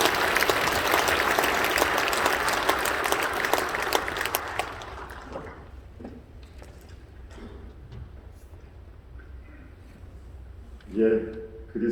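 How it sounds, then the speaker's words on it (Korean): A church congregation at a joint Easter dawn service in Incheon claps in a dense burst of applause that fades out after a few seconds, followed by quiet rustling and the start of a man's speech. "우리 다 환영하고 박수 한번 해주시겠습니다"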